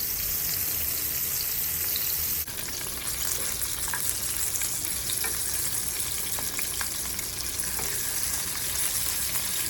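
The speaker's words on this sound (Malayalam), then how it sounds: "രണ്ട് വശവും നല്ലതുപോലെ ഫ്രൈ ആകുന്നത് വരെ ഇതൊന്ന് വറുത്തെടുക്കണം." Fish pieces frying in hot oil for Kerala-style meals, a steady close sizzle with scattered sharp pops and spits running throughout, no voices.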